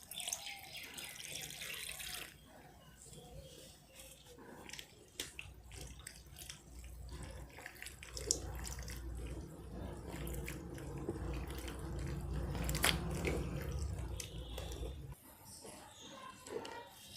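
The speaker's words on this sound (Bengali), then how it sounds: "আবার পরিষ্কার জলে একে খুব ভালো করে আবার একবার ধুয়ে নেব।" Mushrooms being washed in a bowl of clean water, soft splashing and trickling with hand movement, fairly quiet, busier and louder toward the end before stopping.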